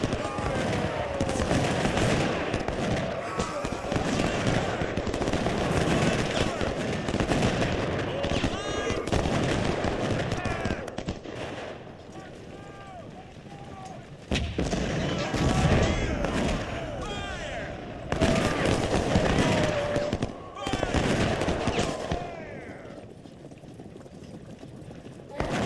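Civil War infantry volleys in Ultimate General Civil War crackle as dense, ragged musket fusillades with scattered pops, rising and falling in bursts, while someone talks over the battle.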